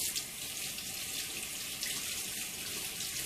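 Cold water runs from a tap for hand washing, a steady close splashing stream into a sink with no pauses.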